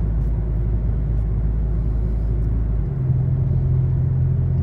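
A 2016 Dodge Charger SRT 392 pulling away from a stop in eco mode, a deep steady engine rumble with a gear change about two-thirds of the way through, heard from inside the car.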